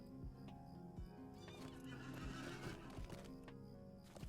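A horse in the Lord of the Rings Online video game whinnies loudly while hooves clip-clop in a steady rhythm underneath, with faint game sounds behind.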